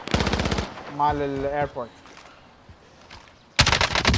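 Rapid automatic gunfire bursts in a shooter video game, loud and close, with a short pause between them, while someone speaks briefly over the gap.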